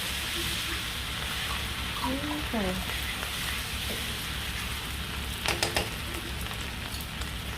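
Steady sizzling of seafood boil butter sauce base frying in a pot, a constant crackling hiss, with a few brief clinks and a short word spoken over it.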